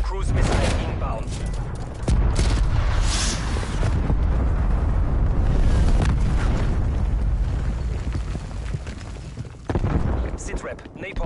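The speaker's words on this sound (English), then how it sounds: "Cruise missile inbound." Continuous heavy booms and rumbling blasts from a cruise missile strike roll through a Call of Duty Cold War multiplayer match, dense and loud throughout with a fresh burst near the end.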